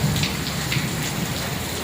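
Steady heavy rain pours down during a thunderstorm, a dense, loud wash of drops with low rumbling underneath, heard alone without voices.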